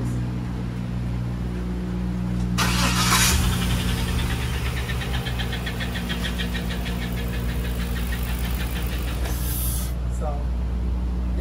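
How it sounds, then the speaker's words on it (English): A truck engine with a chirping fault idles loudly and steadily nearby, a faint rapid chirp repeating over its drone, with bursts of hiss breaking in near the start and end. "it's making a chirpy noise. Like somebody has putting a baby chick in the engine."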